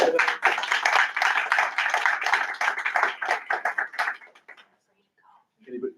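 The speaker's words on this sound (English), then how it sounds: "So once again, a round of applause for our 3 students." A crowd applauds three students at a board meeting, clapping steadily for about four seconds, thinning out and stopping, followed by a brief voice.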